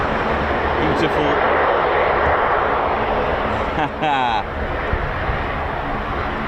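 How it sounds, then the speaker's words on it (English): Turboprop engines of a US Air Force MC-130J aircraft at RAF Mildenhall roar loudly and steadily throughout, a broad continuous drone with a brief dip near the end. "beautiful engines from the MC-130J."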